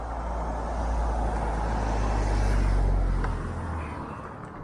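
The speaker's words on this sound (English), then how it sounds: "We've got a car coming." A car on a road swells from a low rumble to a peak and fades as it passes close by, a steady broadband roar of tyres and engine with no talk.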